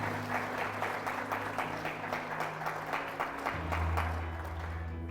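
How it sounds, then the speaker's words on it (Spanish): A church congregation applauds together during a sermon, dense steady clapping held for several seconds over a sustained low organ or keyboard tone that shifts pitch near the end. "¿Cuántos aplauden el nombre de Jesús?"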